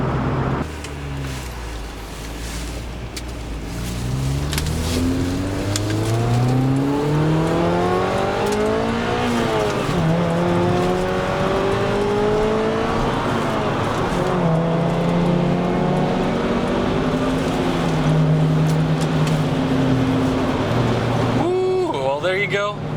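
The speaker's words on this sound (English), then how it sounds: "That's the smoothness of NA there in a nice high revving Honda." A naturally aspirated Honda CRX VTEC engine revs through repeated gear pulls while driving, its pitch climbing smoothly, dropping at each shift and climbing again, loud and close inside the car, with a voice talking over it.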